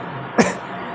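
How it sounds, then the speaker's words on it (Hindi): A single sharp, close cough bursts out once against a quiet background, from someone whose cough has lingered. "मेरी खांसी यार अभी तक ठीक नहीं हुई"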